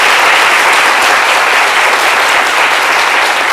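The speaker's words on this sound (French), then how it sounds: "Ça mérite encore une fois un tour d'applaudissements dans tout ce studio." Sustained applause fills a television studio, loud, dense and steady throughout with no pauses and no voices over it.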